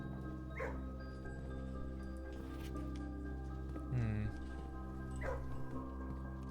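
A dog in the video game Blue Prince gives a few short, faint yips or barks, spaced apart over a steady, humming music bed.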